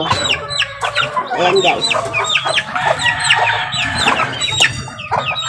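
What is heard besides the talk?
mother hen clucking with chicks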